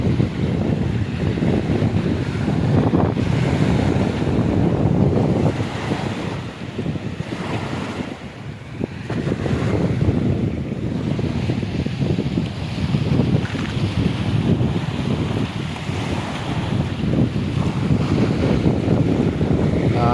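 Strong wind roars across the microphone while heavy waves surge continuously at sea in stormy weather during a typhoon, loud and unbroken for the whole stretch with no voices.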